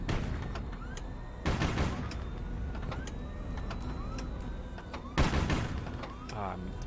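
Video game combat with a minigun and exploding missiles: rapid bursts of rattling fire and sharp blasts break out twice over ongoing mechanical whirring and background noise.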